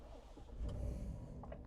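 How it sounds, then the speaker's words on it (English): A 2026 Chevy Silverado 1500 LT Trailboss with a V8 starts up, a brief crank followed by a low rumbling idle, heard close and fairly quiet. "V8 startup. Very nice."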